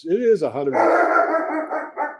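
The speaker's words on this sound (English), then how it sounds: "dog is barking there" A dog barks a few times close by, yipping sharply at the start before a voice talks over it.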